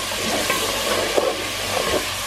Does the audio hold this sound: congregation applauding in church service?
no